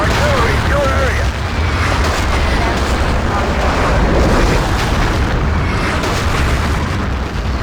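Artillery explodes in the Battlefield 2 video game as a continuous, heavy rumbling of booms and blasts, loud and dense throughout, with voices mixed underneath.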